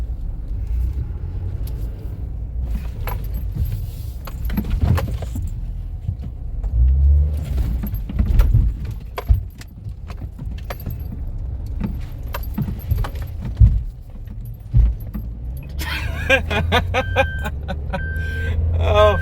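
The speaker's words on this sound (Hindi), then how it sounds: "हम डिवाइडर के ऊपर से गाड़ी निकालने वाले हैं" A car being driven up and over a road divider in a traffic jam during a road trip, with heavy low rumbling, thumps and rattling bumps, plus a sharp clatter near the end, and people talking quietly.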